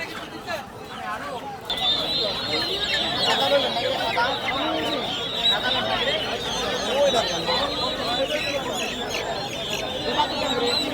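Chickens clucking and crowing at a busy poultry market in Golakandail, steady cackling from many birds under continuous crowd chatter and nearby talk.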